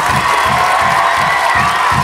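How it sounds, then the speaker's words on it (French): A live audience cheers and applauds a performer, a dense, loud, continuous wash of clapping and shouts with no pauses. "Faites un tonnerre d'applaudissements pour Diata."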